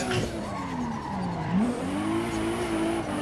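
A 2JZ-engined car drones and climbs in pitch in a drifting video game as tires screech through a slide, a steady loud mix of revving and skidding with no voices.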